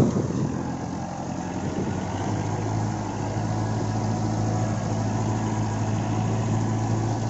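Kubota MU4501 tractor pulling a 450 kg plow through a field, the diesel engine a loud, steady low rumble that holds its pitch the whole time, with no one talking.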